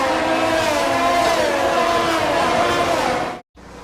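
Race cars in the F1 22 video game rolling off on the formation lap at the Emilia-Romagna Grand Prix in Italy, a loud continuous engine drone that cuts out briefly near the end.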